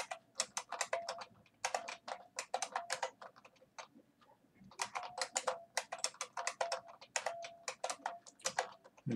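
Password entered on a computer keyboard: quick clusters of light, crisp key clicks in two bursts separated by a short pause, close and fairly quiet with no talk.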